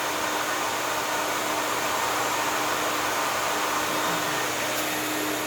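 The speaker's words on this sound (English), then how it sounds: "he let me use his DCS dust collection system" A DCS dust collection system runs with a steady, loud, broadband whoosh and a faint low hum, unbroken throughout and with no voices.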